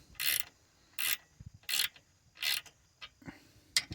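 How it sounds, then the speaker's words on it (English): A wrench ratchets in short repeated bursts while bolts are started on a trailer jack installation, four or five crisp clicking strokes spaced about every second, close and alone. "We're gonna get these started in here with a wrench to make sure we don't strip them out"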